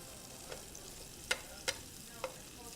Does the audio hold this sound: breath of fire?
no